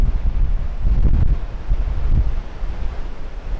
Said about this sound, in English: Admiring the fascinating Atlantic waves.